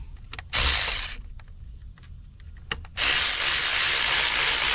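An electric ratchet wrench works a distributor bolt on a 2000 Honda Accord, firing in two loud bursts, a short whir followed by a longer sustained run, with quiet clicks and a steady high whine in between.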